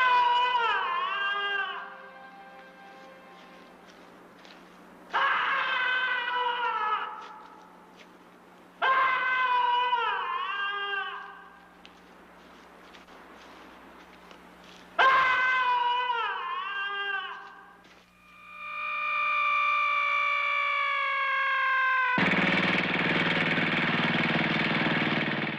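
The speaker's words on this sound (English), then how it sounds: "When provoked, the skull's angry screams reverberate for miles." Haunted human skull's angry screams as a sound effect: several loud, wailing howl-like cries in separate bursts with short gaps, ending in a rising shriek and a harsh roaring blast, with a steady low hum underneath.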